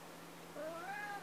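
A cat gives a single soft, rising meow, quiet and close against faint background hum.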